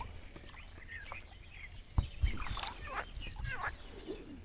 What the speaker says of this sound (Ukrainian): Все оживає, річка бурлить, пташки співають.